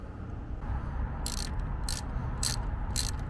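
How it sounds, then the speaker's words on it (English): A small socket ratchet clicks while snugging 8mm bolts on an idle air control valve of a 2000 Mercury Mountaineer 5.0, four quick bursts of close, sharp ratcheting over a steady background hum. "Tighten these 8mm bolts up with a little socket and a ratchet"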